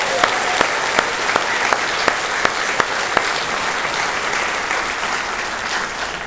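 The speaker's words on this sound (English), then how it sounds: "Let's give the students a big round of applause." Applause from a graduation audience at York River Academy's 2024 ceremony, a dense steady wash of clapping lasting about six seconds, with a few sharper, louder claps standing out early on.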